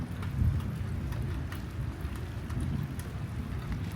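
Steady rain falls outdoors as a dense, even patter with a low rumble beneath it, close and continuous throughout, with no one talking.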